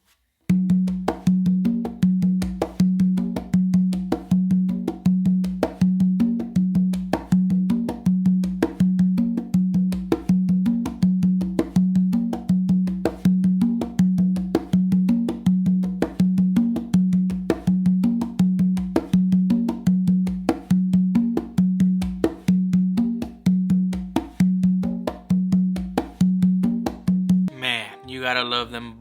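Conga drums beat out a steady bossa nova pattern, dense repeated hits in an even rhythm, loud and close, played alone through to the end.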